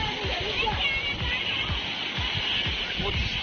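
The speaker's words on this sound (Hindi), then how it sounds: "तो देखिए यहाँ का वाटरफॉल" Water splashes and rushes steadily at Nagarda waterfall in Sakti, Janjgir-Champa, a continuous close roar with someone talking over it.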